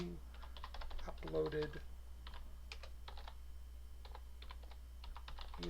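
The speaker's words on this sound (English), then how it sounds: "I want to type text equals and give it a title" Someone types a course title on a computer keyboard in quick, light bursts of keystrokes with short pauses, while a voice speaks briefly over the clatter.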